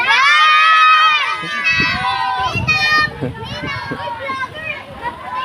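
Crowd of schoolchildren at a Nutrition Month event shouting together loudly on cue, a sustained high burst of voices that breaks into scattered chatter and calls.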